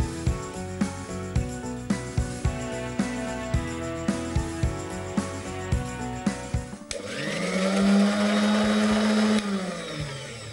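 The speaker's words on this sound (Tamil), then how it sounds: "ஸோ முட்டை எலுமிச்சைப்பழத்தை நல்லா மிக்ஸ்" A small electric mixer blends egg and lemon juice, a loud steady whirring drone that rises partway through, with rhythmic background music before it and no talk.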